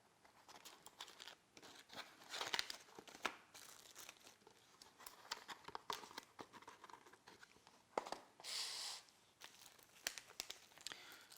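Packaging for a Pi Crust Proto HAT, a Raspberry Pi prototyping board, is torn and crinkled open in a series of close, irregular rustles and rips, with a louder sustained tear near the end.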